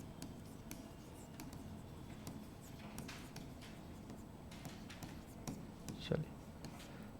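A teacher writes on a board in a classroom lesson, making faint, quiet scratchy strokes and taps in short bursts, with a voice speaking softly underneath.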